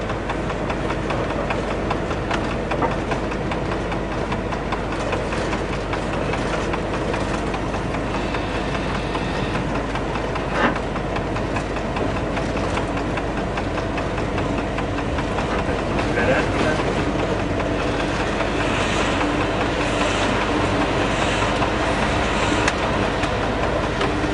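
A train hauled by a CC 68000 diesel locomotive runs on rails between Troyes and Estissac, a steady loud engine drone with rolling wheel noise and faint rhythmic clatter throughout.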